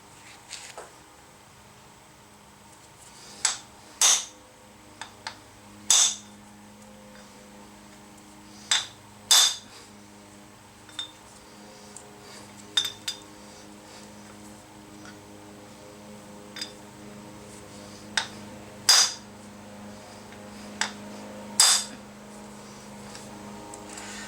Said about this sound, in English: I could probably stand to use a bigger hammer